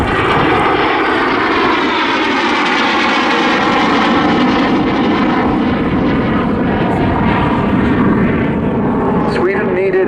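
A Swedish jet fighter performs at an airshow with a continuous loud roaring engine rumble that holds steady throughout, close and dominant, with a narrator speaking over it.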